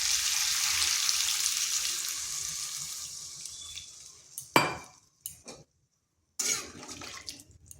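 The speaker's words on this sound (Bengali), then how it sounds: "এরপর এখানে দিয়ে দিচ্ছি জল।" Water poured into a hot pan of cauliflower curry (phulkopi kalia): a loud steady hiss and bubbling that fades over several seconds, then a few sharp clinks and a short final burst of sizzle.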